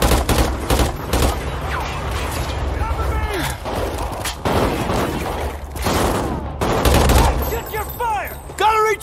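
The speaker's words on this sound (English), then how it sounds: "Keep firing!" Dense gunfire in Call of Duty: Ghosts, with rapid bursts and single shots layered over explosions and battle noise, while shouted voices break in across the fight.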